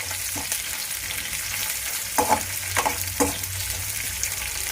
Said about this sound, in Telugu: పెసరపప్పు శనగపప్పు కూడా వేస్తున్నాను మంచిగా రెడ్ కలర్ వచ్చేలాగా ఫ్రై చేసుకోండి